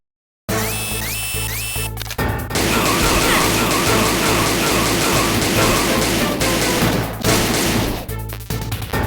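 Gunfire erupts in the Metal Gear Solid video game, a loud dense burst of rapid shots and crashing impacts that runs almost without pause for several seconds after a brief quiet start.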